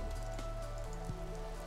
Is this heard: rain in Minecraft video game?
yes